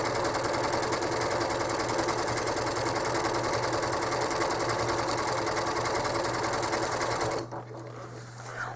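Home sewing machine stitching a quilt, a steady, loud, rapid mechanical whir with a constant hum running for about seven seconds, then stopping abruptly and leaving a quieter motor hum.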